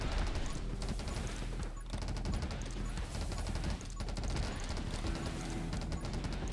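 Rapid, dense bursts of Spark Shotgun fire in the game 20 Minutes Till Dawn rattle on almost continuously, loud and busy with only brief dips in the barrage.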